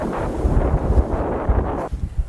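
Strong gusting wind of about 30 mph outdoors at a long-range rifle shooting spot, roaring and buffeting the microphone steadily with surging gusts, no voices.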